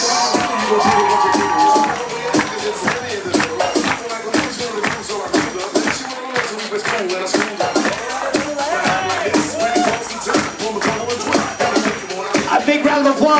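Wedding guests at a country club reception cheer, shout and clap as couples are announced, with loud crowd noise and sharp claps rising and falling throughout.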